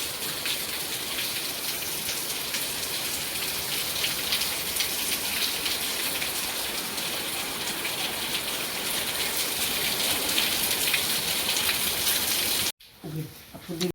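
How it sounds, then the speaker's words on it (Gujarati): Heavy rain pours steadily onto surfaces as a dense, continuous hiss, loud and unbroken for most of the clip before cutting off abruptly near the end. "કેટલું ઊંચો વરસાદ છે."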